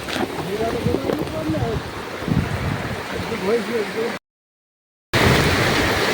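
Heavy rain pours down on a football ground beside the Koshi river, a loud, steady broadband wash with voices talking through it, cut by a brief moment of silence before the downpour resumes.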